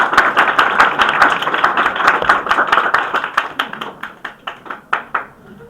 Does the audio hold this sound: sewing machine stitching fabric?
no